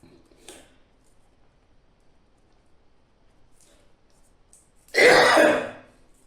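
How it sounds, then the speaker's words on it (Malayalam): A single loud, harsh cough or throat-clearing burst close by near the end, after mostly quiet with a faint earlier sound. "കുറച്ച് ദിവസമായിട്ട് ചുമ നന്നായിട്ടുണ്ട്"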